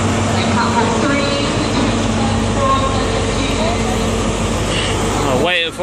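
A steady low rumble and hum of a train idling at a platform at Exeter St David's station on a busy evening, continuous throughout with a short whooshing burst near the end.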